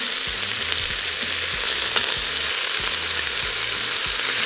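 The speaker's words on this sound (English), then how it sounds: "flip the meat over. And let that cook for another minute." Carnitas pork browns in an Instant Pot, a steady crackling sizzle of meat frying in hot fat, close and continuous with a few soft knocks from the meat being turned.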